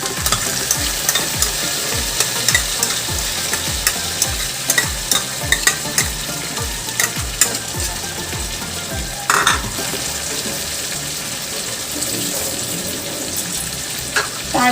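Ground spice paste for prawn malaikari sizzles loudly in a hot pan as it is stirred, with a continuous frying hiss broken by rhythmic scraping strokes of the spoon and a brief splash of water.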